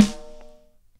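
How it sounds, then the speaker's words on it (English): Default snare drum sample loaded in a compressor plugin, a single sharp hit with a bright attack and a short ringing decay lasting under half a second, heard alone. "I've got this snare loaded up."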